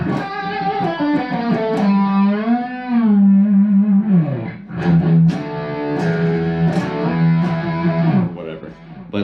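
A distorted electric guitar lick, played with double stop bends and expressive moves, bends and sustains notes with swooping pitch. The tone is loud and close, with effects, and no one talks.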